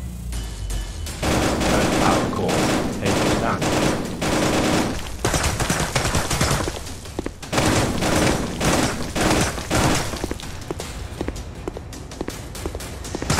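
Rapid bursts of gunfire from a VR shooter game, dense and continuous across the whole stretch with brief lulls, loud and close, some running-like clatter mixed in.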